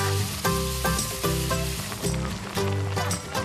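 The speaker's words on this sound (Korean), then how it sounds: "적당한 크기로 썰어 냄비에 넣고 볶아주는데요" Pieces of snake meat stir-fry in a pot with a continuous sizzle under loud, rhythmic background music.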